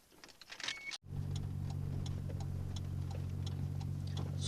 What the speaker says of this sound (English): I'm just out in my Supra, windows up.